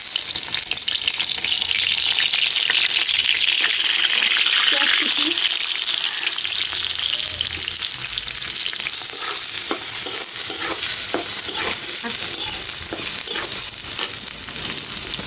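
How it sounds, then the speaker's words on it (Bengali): Whole garam masala spices fry in hot oil in a heated kadai, giving a loud, steady sizzle and crackle that holds throughout, with scattered small pops and occasional stirring clicks against the metal. "কড়াই গরম হয়ে গেছে এখন হচ্ছে দিয়ে দেবো তেল কড়াইটা একদম অনেক সুন্দরভাবে গরম হয়েছে এখন দিয়ে দিব গোটা গরম মশলা"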